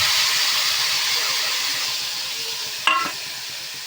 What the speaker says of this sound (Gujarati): આપણે જે દૂધીને ધોઈ અને સમારીને રાખી છે એને ઉમેરી દઈશું